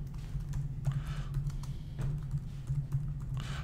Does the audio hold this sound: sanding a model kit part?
no